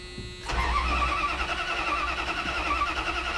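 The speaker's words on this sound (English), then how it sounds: "this thing will fire right up and we'll take it for a quick spin" A truck engine that had been sunk cranks briefly and catches, then settles into a steady, fairly loud idle with a mid-pitched rumble, close by and with no talking.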